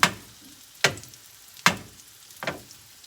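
Croutons frying golden in a pan over lowered heat, heard as four sharp crackling pops spaced under a second apart over a faint sizzle.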